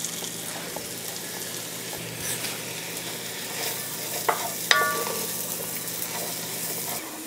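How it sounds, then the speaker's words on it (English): Chopped onions and sliced mushrooms sauté in butter in a pan with a steady, soft sizzle throughout, broken by a few light stirring clinks and scrapes. "we're gonna allow them to saute in here for about 3 minutes"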